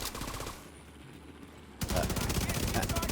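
Rapid automatic gunfire from the video game The Division 2, loud bursts at the start, a brief quieter gap, then another sustained volley of fast shots.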